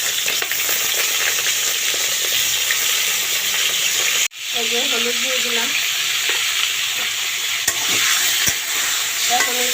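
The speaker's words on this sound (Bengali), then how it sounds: "এটা ভাজা ভাজা করে নেব" Salted pointed gourd (potol) slices sizzle loudly and continuously in hot oil, cut by a sudden clatter of stirring midway, with a voice briefly audible under the frying.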